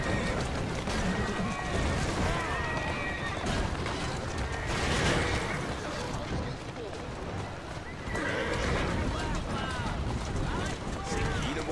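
Horse neighing and whinnying over clip-clopping hooves, with someone talking and calling to the mare throughout, fairly busy and close.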